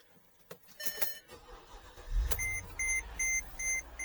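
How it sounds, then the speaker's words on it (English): A Mercedes ML500 engine cranks and catches with a short starter whir, then settles into a low idle while evenly spaced chimes beep from the dashboard; clicks and a brief warning tone come just before the start. "Alright, so we're going to start the car."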